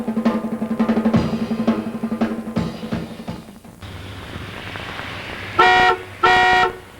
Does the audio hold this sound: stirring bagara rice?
no